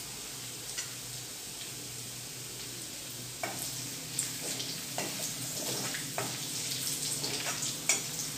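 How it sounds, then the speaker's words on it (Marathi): Garlic browns in a pan for a spicy mixed vegetable dish, a soft continuous sizzle with scattered ticking pops and occasional light spoon taps, close but fairly quiet. "छान भाजून घ्यायचे आहे लसूण आपल्याला।"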